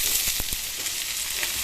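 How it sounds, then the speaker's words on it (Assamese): Chopped onions dropped into hot rendered pork fat sizzle steadily in a pan, a continuous bright frying hiss with a few soft clicks and stirs, close and fairly loud, with no talking. "আৰু এই তেলখিনিতে এতিয়া মই দি দিম পিঁয়াজ"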